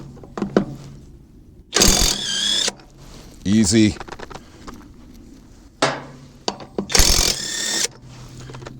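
Several short bursts of an Alloyman 20V 1/2-inch cordless impact wrench rattling nuts loose, separated by pauses, with a brief spoken word between them.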